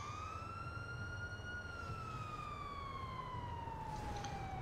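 Police car siren in GTA V with LSPDFR mods, a steady wailing tone sweeping slowly up and then gliding down, loud and close over a constant rumble of engine and game background, with no talking.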